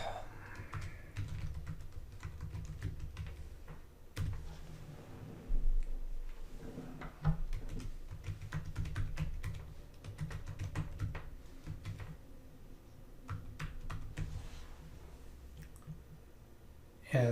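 Login details being typed on a computer keyboard: close, brisk clusters of key taps and clicks with a few louder thumps and short pauses between bursts, over a low background hum.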